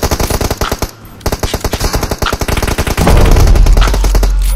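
Rapid gunfire from a video game rifle, an AWM sniper rifle among the weapons, crackles in a dense run of sharp, loud shots before a heavier roar takes over near the end.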